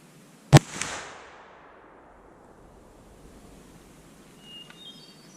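A single sharp report from a Thompson Center Hawken .45 muzzleloader loaded with 50 grains of Old Eynsford black powder, loud and close, followed by a fading rumble and a quiet outdoor background.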